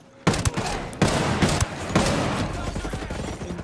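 Gunfire rips out in rapid bursts in Ghost Recon Breakpoint. Several loud volleys of shots follow one another closely, with a faint voice underneath.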